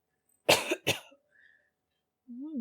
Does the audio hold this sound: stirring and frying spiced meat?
no